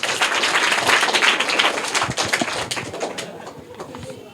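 Schoolchildren in a private school classroom in Bihar clap loudly after a correct quiz answer, a busy burst of hand claps that tapers off, with scattered voices and some outdoor bird sounds mixed in.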